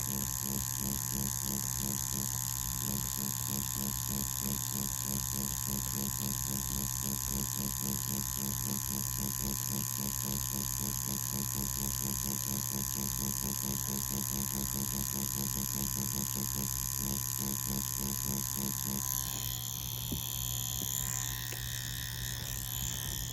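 Ambition Ninja wireless tattoo machine buzzing steadily up close while doing dot work, a constant electric hum with a fast rhythmic pulse that changes tone near the end.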